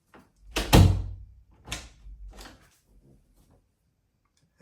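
A door with WD-40 on its hinges swings shut without squeaking, giving a soft close thump followed by a few fainter knocks and latch clicks, then near silence.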